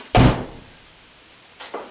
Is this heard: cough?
no